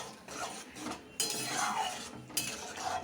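Boiled peas tipped into a pan of well-fried ghugni masala, with clinking and scraping of a metal spoon against the pan and stirring noises, close and fairly quiet, in short bursts.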